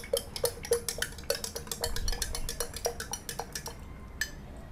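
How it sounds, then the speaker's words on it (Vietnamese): A small spoon stirring a mixture into half a litre of water, close rapid clinks of metal against the container wall with irregular rhythm, fading out near the end. "Mình sẽ khuấy đều lên."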